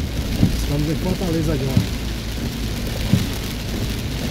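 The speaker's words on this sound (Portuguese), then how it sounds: "Na verdade, eu queria mostrar um pouquinho da chuva" Heavy rain falling on the Fortaleza ring road works, a loud steady hiss with a few dull thumps, while someone speaks over it.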